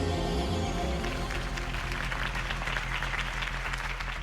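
Crowd applause in the Batman: The Telltale Series video game, a dense, steady wash of clapping from many hands that stays even and moderately distant for the whole stretch.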